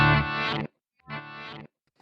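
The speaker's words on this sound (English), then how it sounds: "let's set it to a reverse delay instead" Electric guitar run through a reverse delay effect on a Quad Cortex modeler: two swelling, smeared note phrases with a backwards bloom and abrupt cut-offs, a short gap between them, and a faint third swell starting at the end, loud and close with no talking.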